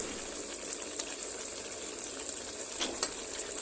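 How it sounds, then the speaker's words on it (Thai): A stingray curry bubbles and simmers in a pot, giving a steady hiss with small sizzling pops and occasional brief louder spits, heard alone and close. "ตั้งไฟให้เดือดจนปลาสุก"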